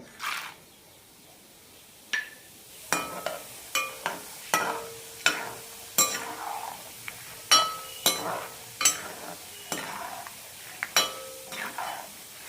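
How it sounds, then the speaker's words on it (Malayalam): Peanuts and roasted gram stirred in hot frying oil for a boondi mixture snack, with a steady sizzle and repeated clinks of a metal spoon against the pan at a close, moderate level. "ഇനി ഇതിലേക്ക് നിലക്കടലയും പൊട്ടുകടലയും ഇട്ട് വറുത്തെടുക്കാം"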